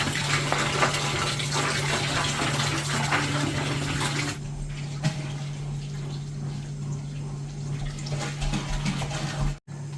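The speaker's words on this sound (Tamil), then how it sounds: "கேன் தண்ணி எல்லாத்தையும் கமல் வந்து தூக்கி ஊற்றிட்டு இருக்காங்க" Water from a can pours steadily into a home fish tank, a continuous splashing rush that fills the first half, then quieter trickling and bubbling over a low steady hum, with a brief thump near the end.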